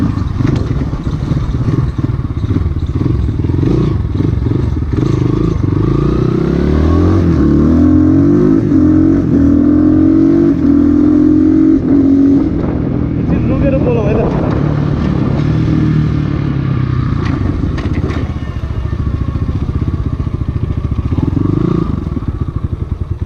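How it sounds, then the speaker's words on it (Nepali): An Asian Beast 250cc dirt bike engine revs and pulls steadily while being ridden, loud and close throughout, with rising and falling engine pitch and some rattling clatter over the drone. "यस बाइक एकदमै राम्रो छ होइन, एन्ड पिकअप पनि एकदमै स्मुथ, पावर डेलिभरी पनि एकदमै स्मुथ छ कि यसको।"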